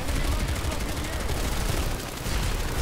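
Rapid automatic gunfire from a TR weapon in Planetside 2, a dense, continuous loud burst of shots with a brief dip near the end, heavy and close.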